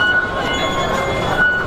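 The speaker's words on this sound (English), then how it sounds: "We are taking the subway on our way to Temple Street Night Market." A Hong Kong subway train rumbles loudly at rush hour, a continuous close roar of rail noise with faint high squeal tones and no voices.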